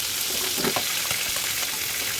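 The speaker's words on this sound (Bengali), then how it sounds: "ডিমগুলো হালকা ভাজি করা হয়ে গেল।" Hilsa fish roe coated with turmeric, chilli powder and salt, lightly frying in a hot pan, giving a steady close sizzle with a few soft stirring sounds and no voices.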